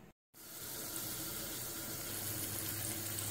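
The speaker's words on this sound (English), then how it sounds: "get water maybe about 2/3 of the pot full" Tap water gushes steadily into a cooking pot being filled for mushroom broth, a continuous close hiss and splash after a brief silent gap at the start.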